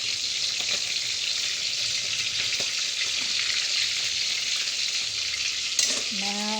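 Fish sizzles in hot oil in a pan, a dense continuous hiss close up, with a brief clatter of a utensil near the end.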